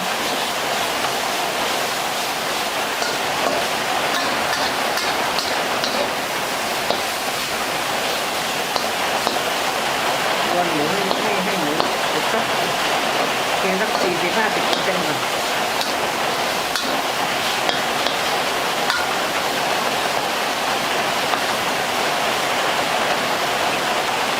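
Heavy rain pours during a storm in Phuket, a loud, constant broadband roar like a waterfall with no gaps.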